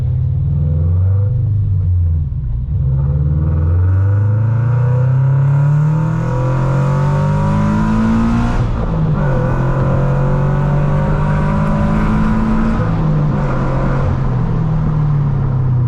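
A tuned Subaru BRZ with a JDL UEL header and a Nameless cat-back exhaust drives at night, its loud, rumbling exhaust rising through repeated revving pulls and gear changes, heard continuously from inside the car with no talking.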